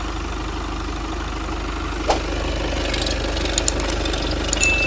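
A 2019 Volkswagen Passat B8 2.0 TDI diesel engine idles steadily with an even, low rumble, one sharp click partway through and faint light ticking near the end.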